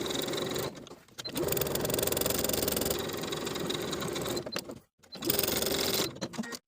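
Sewing machine topstitching a linen shirt collar, a steady close whirring run broken by two short pauses where the stitching stops and restarts.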